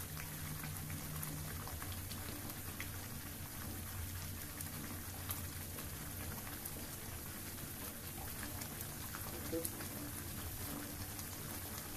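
Milk cream simmering slowly over a very low flame as it cooks down into ghee, a steady fine bubbling and crackling like light rain, continuous and even, faint, with no voices.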